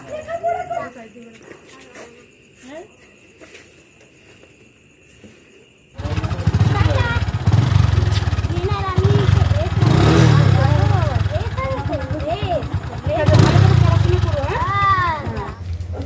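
After a quiet start with some talk, a motorcycle engine starts up close and runs steadily and loudly, with voices heard over it.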